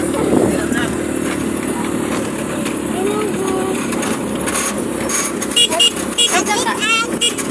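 A tricycle ride in Mindanao with Papa driving, the motor rumbling steadily beneath loud, continuous talking from passengers, with some passing traffic noise.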